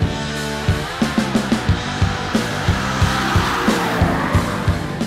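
An engine revs hard through a robotized gearbox shifted with paddles, with each shift cutting the revs in a series of quick, rhythmic pitch drops before a long climbing pull, loud and close.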